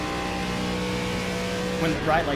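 Race car engine in the iRacing sim during an ARCA race at Pocono, a steady high-revving drone with stacked harmonics held near full throttle, with a voice talking over it near the end.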